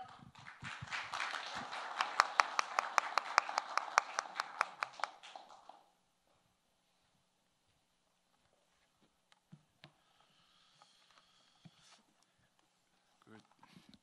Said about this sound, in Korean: 뜨거운 박수로 환영해 주세요